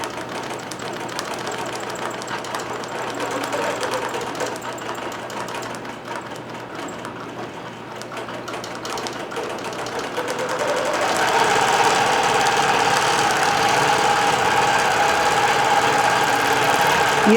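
A computerized quilting machine with an 80 SUK ballpoint needle and Mettler Poly Sheen thread runs a steady mechanical hum and rapid stitching rhythm that grows louder partway through, close by, with a voice talking over it.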